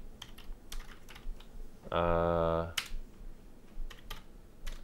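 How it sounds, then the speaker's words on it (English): Computer keyboard typing: irregular quick clicks in scattered bursts at moderate level, broken midway by a steady buzzing tone lasting about a second, with a brief voice murmur. "typing"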